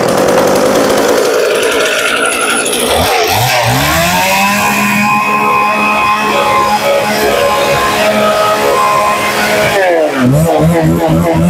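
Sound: used Japanese chainsaw running

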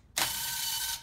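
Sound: tool undoing the clutch cover on a Rotax Max 125

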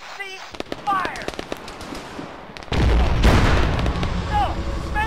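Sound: alien ship firing in the video game ArmA 3 Contact

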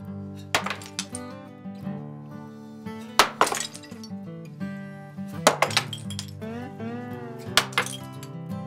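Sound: baked clay pottery smashing against a wall

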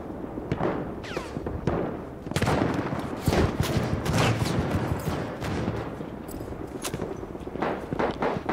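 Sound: gunshots, from the video game Battlefield 1

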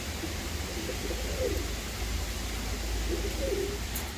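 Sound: pigeon

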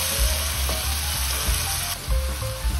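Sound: onions frying in olive oil

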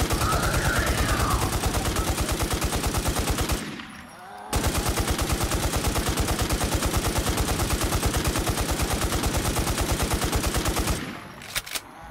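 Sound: gunfire shooting a super zombie in the video game Infestation The New Z

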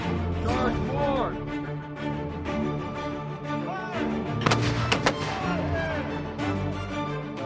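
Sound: live artillery and gunfire in a military exercise

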